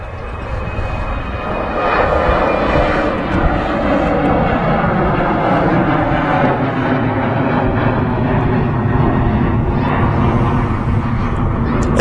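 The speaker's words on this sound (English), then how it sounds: "on the runway, we do have the BA City flight on its way back to London City Airport" A BA CityFlyer airliner bound for London City rolls along the runway at Manchester Airport, its steady engine roar loud and continuous throughout with no pauses.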